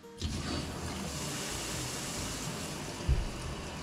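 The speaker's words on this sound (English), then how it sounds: "So I'm flowing water out the wall hydrant." Water gushes out of an outdoor wall hydrant at a boat house in a strong, continuous rushing flow while purging air, close and steady, with a brief thump near the end.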